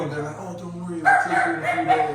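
A small dog barks indoors, a few sharp yaps coming in partway through under a man's ongoing conversation.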